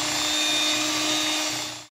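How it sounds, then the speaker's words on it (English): An electric hand mixer whirs steadily for about two seconds as it beats egg batter for Lao baked eggs, loud and close, then cuts off abruptly. "Use the mixer to mix it."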